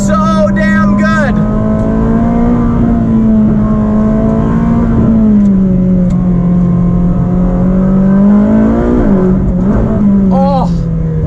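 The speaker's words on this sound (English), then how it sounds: "This car sounds so damn good." A naturally aspirated V8 car engine with a 9,000 RPM redline, a loud steady drone heard from inside the car that rises and falls slightly, with voices talking over it.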